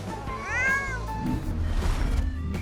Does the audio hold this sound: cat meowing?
yes